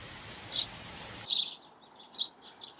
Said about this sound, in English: And the blackbirds are back asking for sultanas every morning.